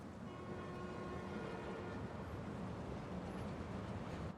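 A train arrives in the video game Marvel's Spider-Man with a low, steady rumble and faint metallic squeals and hums that persist throughout, heard at moderate distance with no talking.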